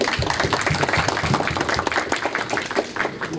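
Applause from a lecture-hall audience at a data science talk for a government agency, a dense, steady patter of many hands clapping close by for about three seconds with no speech over it.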